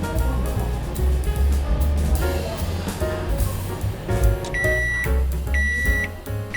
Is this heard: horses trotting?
no